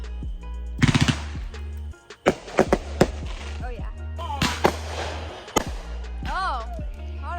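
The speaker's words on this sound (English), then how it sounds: "enjoying these fireworks" Fourth of July fireworks going off, sharp cracking bangs and rapid popping bursts at varying distances, with a person talking briefly over them.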